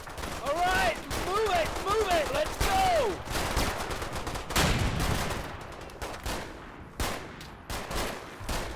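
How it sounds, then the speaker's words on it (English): Rifle shots from a WWII Combat Mission battle, where a British rifleman fires his Enfield through a window, burst out amid a dense clatter of gunfire, with loud cracks and whistling tones early on and sharper reports later. "A 3rd Section rifleman sticks his Enfield through a window and takes out a German cowering on the ground."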